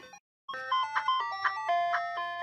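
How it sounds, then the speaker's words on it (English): Ice cream truck jingle in the Crazy Taxi game, a bright tinkling melody of repeated chime notes that starts after a short gap and plays clearly on its own. "The ice cream truck is on its way."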